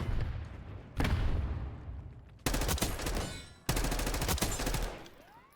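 Enemy gunfire in a video game, three loud bursts of rapid automatic shots separated by brief pauses, each burst abrupt and close.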